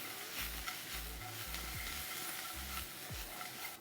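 Fried cauliflower with chopped coriander sizzles steadily in a hot pan while being tossed and stirred, with soft rhythmic scraping and shuffling sounds, faint and close.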